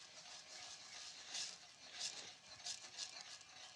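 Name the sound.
spoon stirring bread into a sauce in a pan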